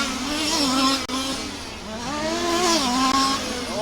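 Race cars scream down the back straight after the carousel at Warm Springs Raceway, engines rising and falling in pitch as they pass at a distance, with no talk.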